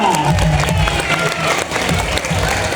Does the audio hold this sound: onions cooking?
no